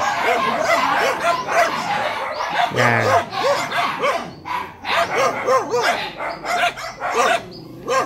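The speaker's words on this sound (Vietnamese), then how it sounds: "Người lạ mình nó sủa quá trời nó sủa" A dog barks repeatedly at strangers near a house, a run of loud, close yips and bow-wows through most of the stretch, with people talking over and between the barks.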